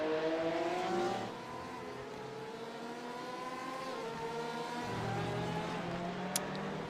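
Porsche race cars in the iRacing video game at Daytona Road course, engines droning and shifting pitch as the cars run down into a turn, moderately loud and steady with no talk.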